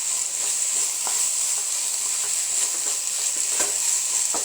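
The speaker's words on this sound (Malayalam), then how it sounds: "ഇളക്കാം." Beef filling for a khatti roll fries in a pan with coriander leaves, a steady close hiss of sizzling with soft scraping stirs every second or so.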